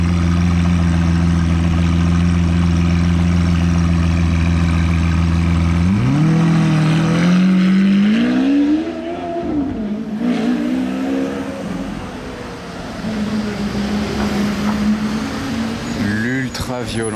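A deep-throated McLaren sports car engine idles close by, then revs up and down a couple of times before settling into a rumbling idle.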